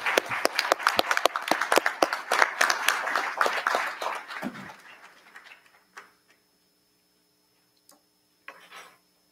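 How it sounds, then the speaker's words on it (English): Audience at a school district board meeting applauding students, a dense patter of clapping for about five seconds that thins out and dies away, leaving near silence with a couple of faint stray noises. "let's go ahead and give them a round of applause"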